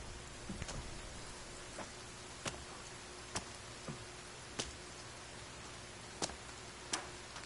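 Steady rainfall in the survival video game The Forest, a constant hiss with scattered sharp drop ticks and a few louder taps, no talking.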